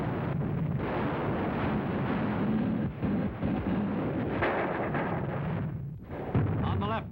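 Heavy gunfire and artillery from a World War II battle on Peleliu rumble in a dense, continuous roar with booming bursts, while a narrator speaks over it.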